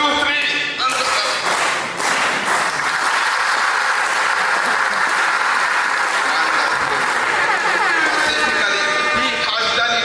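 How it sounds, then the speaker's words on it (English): Loud, thunderous hand clapping from an audience at a cultural day event, a dense roar of claps with cheering that starts abruptly and holds strong for about ten seconds. "We are going to give him a very thunderous hand clap so that we give him more glories for the beautiful presentation"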